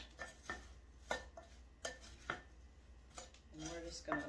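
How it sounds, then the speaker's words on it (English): A spoon stirring apple hand-pie filling in a pot in a home kitchen, with a series of sharp clinks and scrapes against the pot at an uneven rhythm, close and moderately loud, with no talking. "I'm just going to give it a quick little stir around."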